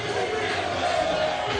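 A boxing crowd cheers and roars in an arena, a dense continuous wall of voices that holds steady and swells briefly.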